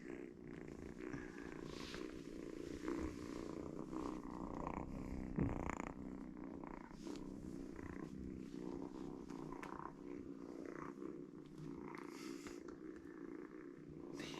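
A kitten purrs steadily and softly up close, a continuous low rumble with faint rustling and handling noises.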